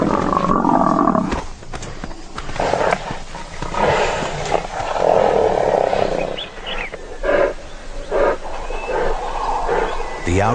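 A lioness roaring and snarling while fighting a thick-skinned, horned animal, loud and close, in sustained growling bursts broken by short pauses, with a voice talking over parts of it.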